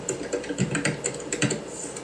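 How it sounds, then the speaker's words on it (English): Typing on a computer keyboard during an online meeting, quick irregular clicks and taps of keys heard close and fairly quiet over a faint background hum. "Who's typing?"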